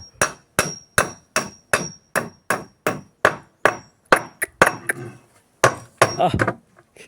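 Steady hammer strikes on wood, about two per second, close and crisp, ending in a few irregular louder whacks and scraping clatter.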